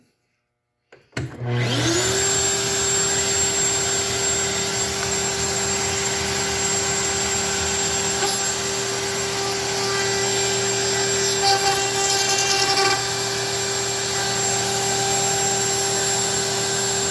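A router table motor starts up with a spinning router bit, used for a dropped plunge cut. It winds up in about a second to a loud, steady high-pitched whine that holds evenly, with slight changes in tone partway through.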